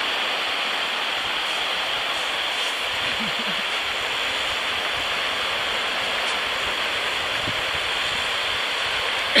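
Sea water rushes out with the ebbing tide at an island shoreline in Anilao, Batangas, a steady broadband wash of flowing water close by with a few faint knocks and splashes.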